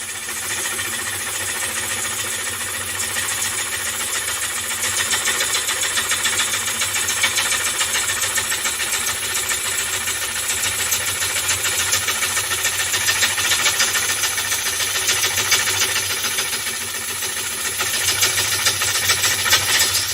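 A wood lathe spins a big platter while a tool cuts shavings. A steady, loud, buzzing drone with a dense hiss runs throughout, holding nearly constant with slight swells as the cut is lifted.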